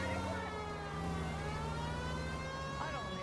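A wailing police siren in the video game L.A. Noire rises and falls alongside traffic noise, with voices talking over it.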